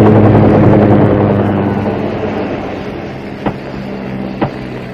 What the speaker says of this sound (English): What's the story of that chopper here today, Morgan?